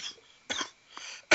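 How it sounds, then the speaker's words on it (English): A sharp, loud cough bursts out at the very end, with a fainter throaty clearing sound earlier on, in a quiet indoor room where the host of a wrestling commentary show is sitting. "you're going to deal with that cough the whole video"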